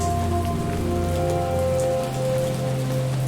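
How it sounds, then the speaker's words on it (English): Steady rain falls in a video game, a dense, even patter of drops on surfaces that fills the whole stretch with unbroken ambient hiss and no voices. "The rain sound is so good."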